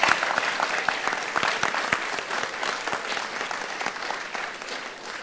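Audience applause at a high school math tournament at Albany State University, a dense, steady round of clapping from a large standing crowd that continues throughout with little other sound.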